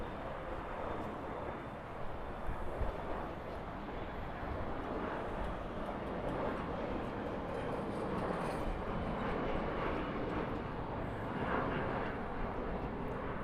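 An airliner at the LAX south runway produces a steady, broad jet roar that holds at an even, moderately distant level throughout, with no talking.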